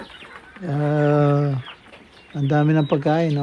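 Farm chickens clucking and calling near a Filipino farmyard, several drawn-out squawky tones in bursts, with a person speaking briefly alongside.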